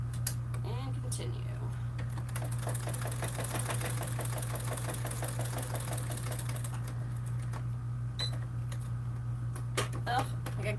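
Sewing machine stitching a Swoon Maisie bag, running in a steady rapid mechanical chatter for several seconds before slowing and stopping, then a few brief clicks; a constant low hum sits underneath.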